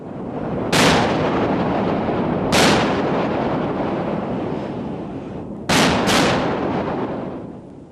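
Battleship 16-inch naval guns firing, three huge booming blasts with long rolling reverberation, the last followed closely by a second report, loud and alone with no voices.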